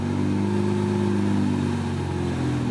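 A BootMod3 stage 2 tuned car engine idling with wandering RPM, a continuous steady droning hum with faint slow pitch drift, close and fairly loud, no talking.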